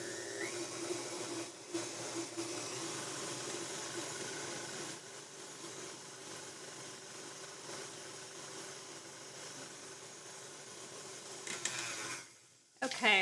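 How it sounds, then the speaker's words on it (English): A stand mixer fitted with a paddle runs steadily, creaming butter and sugar in its bowl with a continuous whirring hum that holds level for about twelve seconds and then cuts off abruptly. "I'm just gonna stop my mixer and scrape down the sides of the bowl"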